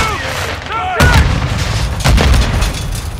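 A decoy grenade in Call of Duty Modern Warfare 2 fakes gunfire with two sharp loud bangs about a second apart. A steady background of game combat noise runs through it, and brief chirping tones come just before the first bang.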